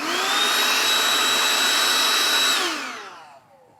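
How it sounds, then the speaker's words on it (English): A vacuum cleaner runs loud and steady while cleaning out the grind chamber of a Ditting 807 coffee grinder, then winds down as it is switched off, with no talk. "I can also take my vacuum cleaner and I can vacuum out"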